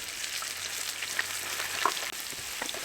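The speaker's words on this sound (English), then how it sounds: "We're just going to stir it around so the meatballs are covered in the sauce." Steady sizzling from a hot cast iron pan as meatballs are stirred in pizza sauce, with faint scraping and occasional pops throughout.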